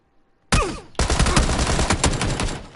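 Gunfire in the video game PUBG, a loud close shot followed by a rapid continuous burst of automatic fire lasting about two seconds and then trailing off.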